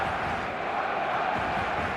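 Stadium crowd at an eFootball match, a steady dense roar of many voices filling the space, continuous and fairly loud with no distinct events.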